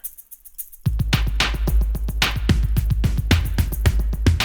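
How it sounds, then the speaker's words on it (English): After a quiet start, a busy drum loop kicks in with a bright, hissy shaker rattling in quick rhythm on top, loud and steady. "I have this shaker one-shot come in later"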